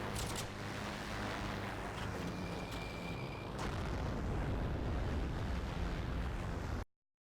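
Aircraft bombs exploding in the Heroes and Generals war game, a heavy, sustained low rumbling roar of blasts that fills the scene before cutting off abruptly.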